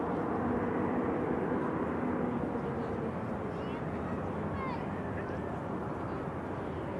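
A seven-year-old Boeing 787-9 Dreamliner taxies at Manchester Airport, a steady broad jet-engine roar that holds at an even level throughout, with no talking.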